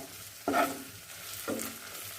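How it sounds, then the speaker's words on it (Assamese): Spices with dried chilli powder crackle and sizzle in hot oil over low flame as a spoon stirs them, with two distinct scraping strokes about a second apart. "এতিয়া অলপ সময় এইকেইটা লৰাই লৰাই ভাজি থাকিম।"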